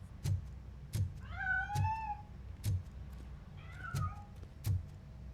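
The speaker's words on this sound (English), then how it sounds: "That cat must be hiding inside." Cat meowing in the video game RoboCop: Rogue City, two drawn-out meows over a quiet background with regular soft thuds like footsteps.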